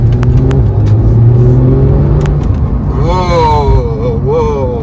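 A Porsche 911 GT3 engine revs hard and climbs in pitch as the car accelerates, loud and close, with a voice talking over the start.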